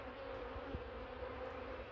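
Honey bees inside a hive, a Carnica colony being given a Buckfast queen, feed on candy and give off a steady, moderately quiet hum with a low tonal buzz throughout.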